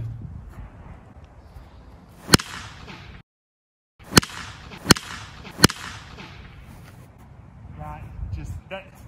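An Easton TPX Z1000 BBCOR aluminum baseball bat strikes baseballs in a series of four or five sharp, loud metallic cracks. Brief pauses separate them, over faint background noise.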